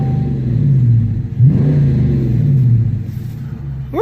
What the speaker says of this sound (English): That's one of the best sounding exhausts on the market right now.